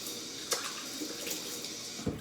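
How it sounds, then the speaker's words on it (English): Water is splashed by hand onto a beard at a sink, a soft steady running-water wash with a few brief splashy bursts, close and fairly quiet. "I'm gonna splash some water on my beard"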